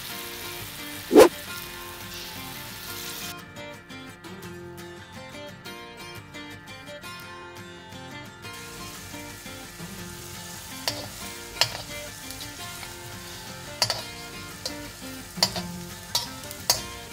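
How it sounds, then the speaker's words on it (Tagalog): Quail eggs in orange batter deep-frying in hot oil for Filipino kwek-kwek, giving a steady sizzle and crackle throughout with occasional sharp pops and spatters. "Pag mainit na yung mantika natin, pwede na tayong mag-start magprito ng ating quail eggs"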